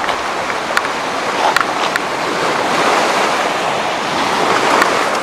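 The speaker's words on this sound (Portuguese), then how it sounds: "vim dar um passeiozinho aqui à beira-mar para ouvir este magnífico som do mar" Sea waves wash onto the shore in a steady, loud surge with gusty wind buffeting the microphone and a few sharp clicks, no voices over it.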